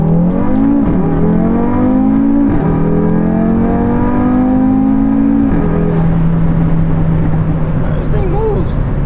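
A single-turbo car accelerates hard, its engine note climbing steadily and close by, with abrupt drops at each gear change before it pulls up again under a constant roar.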